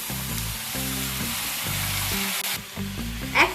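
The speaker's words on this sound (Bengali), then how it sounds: "এবার এর মধ্যে আমি ভেজে তুলে রাখা ডালিয়া আর মুগ ডালটাকে অ্যাড করে দেবো।" Fried broken wheat and mung dal added to a hot pan for a healthy dalia khichuri: steady close sizzling with a short clatter near the end and a loud hum running beneath it.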